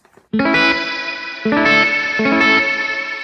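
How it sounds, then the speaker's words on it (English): Guitar played through a Boss RV5 reverb pedal on its modulation setting: three strummed chords ring out with a shimmering, bright, slightly hissy wash trailing behind each one, loud and close with no talking. "faithful old Boss RV5 for just the mod setting"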